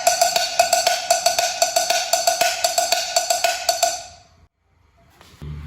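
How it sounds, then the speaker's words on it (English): Salsa cowbell (campana) playing filler on beats 2, 4, 6 and 8 in a steady, bright metallic pattern of close, ringing strokes for about four seconds, then stopping abruptly, followed by a brief faint thump. "The cowbell also tends to do filler on the beats 2, 4, 6, and 8 in various sections of a song,"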